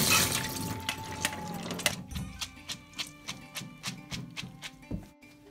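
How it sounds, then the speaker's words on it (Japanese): Soaked split chana dal lentils tipped from a bowl into a kitchen colander: a running pour of water and beans at first, then a series of soft dripping taps at a steady rhythm, close by, with no talk. "これを今度、ザルにあける"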